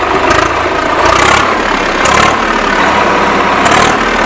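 A tractor powering a sugarcane rotavator runs in the field, its engine chugging loudly and steadily with periodic surges roughly every second, close by and without talk.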